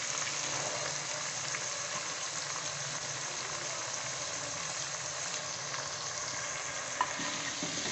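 Peas, fenugreek leaves and mixed vegetables frying hard over high heat in a pan, a dense, steady sizzle that holds evenly throughout with no voices.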